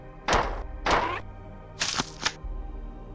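Weapon reloading in the old video game Marathon, a few heavy mechanical clunks: two separate thuds, then a quicker double clack, each sharp and close over a low steady hum.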